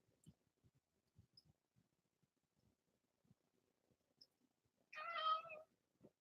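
A cat meows once, close and clear, after several seconds of faint scattered knocks and rustles in a quiet room.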